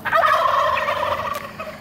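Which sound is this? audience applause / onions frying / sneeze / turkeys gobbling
turkeys gobbling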